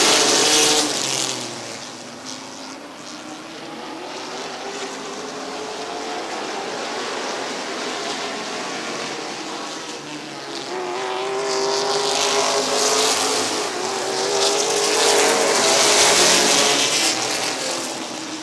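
Stock cars race around the Midvale Speedway oval, a dense roar of engines rising and falling as the field passes, swelling loudest near the end.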